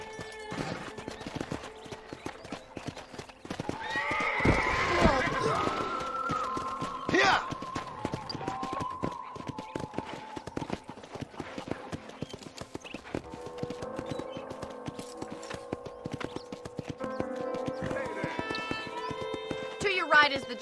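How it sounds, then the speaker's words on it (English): A horse is ridden in the Red Dead Redemption video game, with steady galloping clip-clop of hooves throughout and a brief whinny near the start, under intermittent character dialogue. "let's see if you can still ride a horse"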